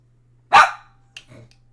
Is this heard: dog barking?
yes